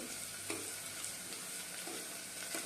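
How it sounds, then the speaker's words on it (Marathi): Cashew pieces frying in a pan alongside onion for a quick matar pulao, a steady close sizzle with a few light scraping taps of stirring, no voices. "आपल्या ह्या काजूच्या पाकळ्यांना थोडासा ब्राऊन रंग येईपर्यंत आपल्याला परतायचं"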